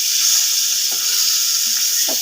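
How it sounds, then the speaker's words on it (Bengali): Four pieces of pangas fish frying in oil, a loud, dense close-up sizzle hissing steadily with faint scrapes of turning. "এদিকে 4 পিস পাঙ্গাস মাছ ভাজতে দিচ্ছি"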